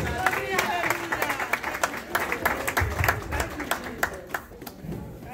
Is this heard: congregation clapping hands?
yes